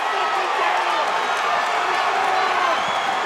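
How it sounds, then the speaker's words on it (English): A packed boxing arena crowd roars continuously during a WBC interim world championship rematch, a dense, loud wall of cheering and shouting under a commentator's voice. "The crowd is absolutely shaking the building at the moment."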